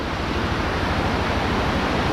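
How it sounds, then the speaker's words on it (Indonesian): A river flowing beside a concrete road in a village near a forest, a dense steady rush of water that stays loud and close throughout, with no voices. "Ini ada sungai ya di pinggir dari jalan betonnya"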